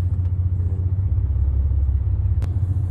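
Mercedes Actros truck moving off after its handbrake is released, a deep, loud, steady engine rumble close by with no speech over it.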